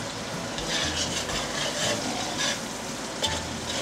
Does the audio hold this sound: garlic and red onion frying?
yes